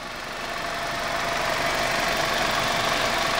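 A 2002 Nissan Sentra's 2.5 liter California-emissions engine idles with a steady, loud mechanical rumble and hiss that swells slightly at first and then holds even, with no voices.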